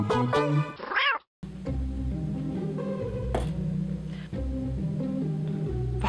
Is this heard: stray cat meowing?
yes